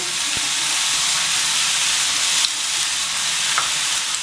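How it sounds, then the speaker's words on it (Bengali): Shingara vegetable filling with fried peanuts, Kashmiri chilli powder and coriander leaves is stirred in a hot pan, giving a steady loud sizzle with a few faint scrapes of the spoon and no talk. "দিয়ে সমস্ত ভালো করে আমি আবার নাড়িয়ে নিচ্ছি"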